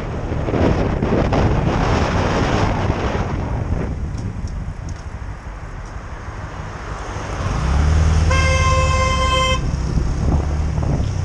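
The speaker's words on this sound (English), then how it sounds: "Don't beep at me because I was slowing down" A car horn sounds one sustained honk of about a second at a motorcyclist, over steady wind and road noise from a moving vehicle.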